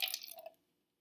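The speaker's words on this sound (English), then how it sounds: "I'm going to just carefully rinse it." Water drips and splashes briefly while a gram stain slide is rinsed over a tray, a short wet burst that quickly fades to silence.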